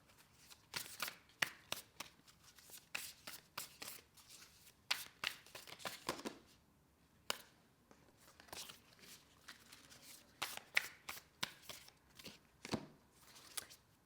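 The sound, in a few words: oracle cards being handled and shuffled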